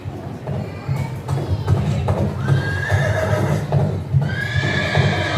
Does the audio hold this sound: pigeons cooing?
no